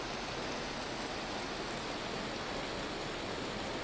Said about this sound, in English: Is it hailing?